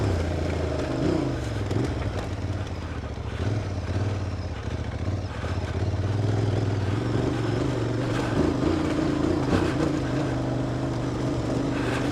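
An adventure motorcycle engine labors up a snowy, rocky mountain pass near 3000 meters, a loud continuous drone rising and falling with throttle over rough wind-buffeted noise.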